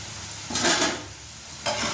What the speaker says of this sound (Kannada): ನೋಡಿ ಈ ರೀತಿ ಕೆಂಪಗಾಗೋವರೆಗೂ ಕರಿಬೇಕಾಗುತ್ತೆ